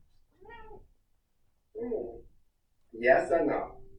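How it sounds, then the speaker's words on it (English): A house cat meows three times, each call separated by a pause, the last one longest and loudest, up close in a quiet room. "that was the cat"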